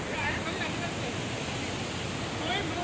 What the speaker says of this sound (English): You can see the beautiful waterfall